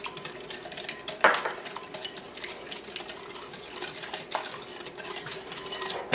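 Whisk or spoon stirring chocolate cake batter with eggs in a bowl, close, continuous soft mixing scrapes with a sharp clink against the bowl early on and another later.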